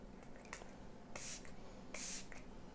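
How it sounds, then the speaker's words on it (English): Two short hissing bursts of a fine mist spray, close by, separated by a pause, with faint soft handling noises around them. "The hydrating spray."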